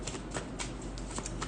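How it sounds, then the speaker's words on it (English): Tarot cards being shuffled and pulled, a steady papery riffle with soft brief flicks and snaps of cards coming off the deck, quiet and close. "let's pull some tarot cards"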